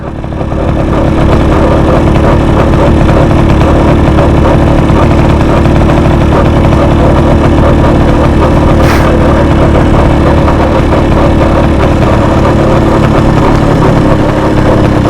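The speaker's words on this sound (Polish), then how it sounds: "Motorek ładnie nam pyrka sobie." A 1938 NSU Quick 98 moped engine idles loud and close, a steady low putter that runs unbroken with no talk.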